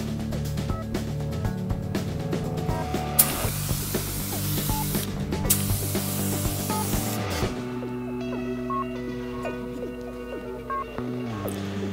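Aerosol activator sprayed onto carbon fibre weave hydrographic film floating on water, a long close hiss that swells loudly for several seconds before easing off over a steady background hum.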